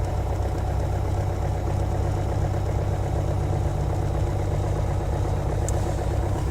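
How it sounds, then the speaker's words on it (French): A Piper PA28 light aircraft engine idles at about 800–900 rpm just after start, a steady low drone that runs without a break from start to finish. "Voilà, le moteur tourne."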